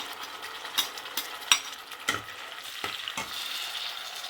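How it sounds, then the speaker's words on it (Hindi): A ginger, tomato and green chili paste frying in a pan while rice browns for matar pulao, giving a steady soft sizzle broken by a few sharp scraping stirs of a spoon, close by with no talking. "तो अब इसमें डाल लेती हूँ ये जो मैंने अदरक, टमाटर वगैरह, सब्ज़ मिर्च पीसी, तीनों चीज़ें"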